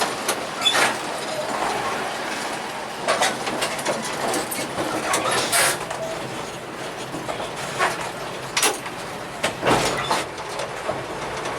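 A passing train heading toward Pondok Joyo on an Indonesian railway line, heard as a steady rumble with repeated sharp clacks and bursts of wheel and coupling noise over about eleven seconds, fairly distant, with no talking.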